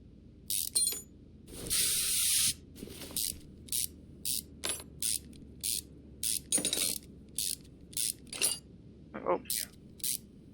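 A car part cover being unfastened and removed in Car Mechanic Simulator 2021, heard as a run of short mechanical ratchet and clicking bursts, one longer hissing spray-like burst early on, spaced fairly evenly and close.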